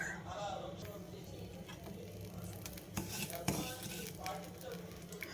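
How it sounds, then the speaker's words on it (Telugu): Curry leaves and ginger frying in a pan for jowar rava kichdi, a steady sizzle broken by stirring scrapes and metallic clinks of a utensil against the pan. "బాగా వేయించి వేయించాలి కరివేపాకు వేయాలి అల్లం కూడా వేసి"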